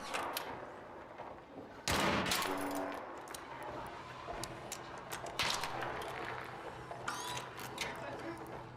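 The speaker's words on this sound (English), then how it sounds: "Why are you shooting at me, bro?" Gunfire in a video game made in Godot crackles in bursts of rapid shots and mechanical clatter, some near and some distant, under a noisy mix of background game sounds.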